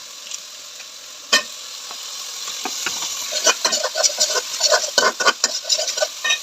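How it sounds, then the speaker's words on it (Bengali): Ginger and garlic fry in a pot for khichuri while a spoon scrapes and stirs through them, a steady close sizzle under a run of sharp clinks and scrapes that grow busier toward the end. "হ্যাঁ, আদা রসুনের গন্ধ না থাকে, কিছুক্ষণ একটু নাড়াচাড়া করতে হবে।"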